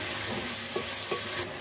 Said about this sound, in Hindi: दही को गोश्त में मिक्स कर देते हैं।